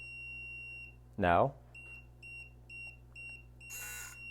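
A Hidalife HL-300L smoke alarm gives a series of short, regular electronic beeps at moderate level, interrupted by a brief spoken word and a burst of noise near the end.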